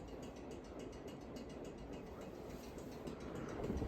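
A wobbling Harbor Breeze ceiling fan spins fast in a room, giving a steady, close rumbling whir with a faint rhythmic rattle that builds slightly toward the end.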